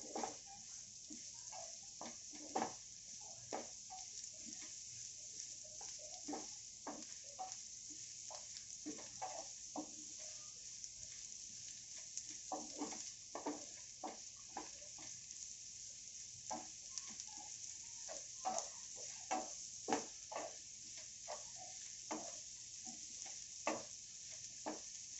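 Onion sautéing in a pan for a Marathi-style egg fry, a steady soft sizzle running throughout with frequent light scrapes and clicks of a spatula stirring, close and moderately quiet, no talk.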